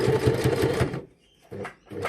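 A sewing machine stitching the fabric of a cap, a close rapid mechanical chatter that runs for about a second, pauses, then resumes in two short bursts.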